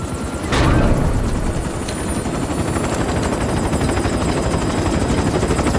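Helicopter in the video game Metal Gear Solid V: The Phantom Pain, a steady rotor drone that stays loud and continuous throughout, with a brief sharp burst near the start.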